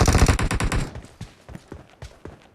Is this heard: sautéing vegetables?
no